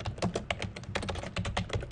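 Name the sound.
typing a recipe on a computer keyboard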